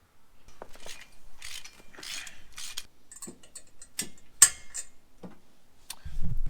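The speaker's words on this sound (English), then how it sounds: "so I assume that you're supposed to tighten this, so I'm going to have to get a wrench" A wrench tightens the lock washer on an RV bike rack, making sparse metallic clicks and ratcheting ticks in short irregular bursts, close and fairly quiet, with a few sharper knocks.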